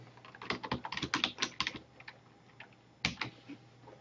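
Rapid keystrokes on a computer keyboard enter a name into a web form, a close, quick burst of clacking taps followed by a pause and a short second flurry.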